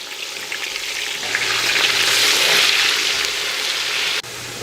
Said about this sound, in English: we're going to add our chopped onions and fry them until caramelized.